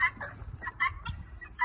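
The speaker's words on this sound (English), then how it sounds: "This here are some very, very, very happy hens." Several happy hens in a coop clucking outdoors at close range, a quick uneven run of short clucks and squawks with brief gaps between them.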